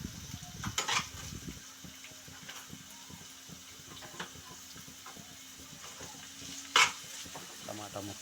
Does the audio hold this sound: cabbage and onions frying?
yes